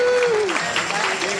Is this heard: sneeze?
no